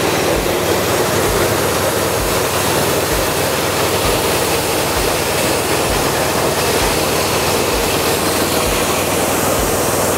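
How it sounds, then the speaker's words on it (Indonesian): A mini rice milling machine runs steadily, a loud, dense mechanical roar with a regular low thumping pulse about every half second throughout. "mesin kita hidupkan dulu"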